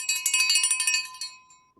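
Bright metallic bell rung in a rapid trill of about a dozen strikes, close and clear, then fading out alone.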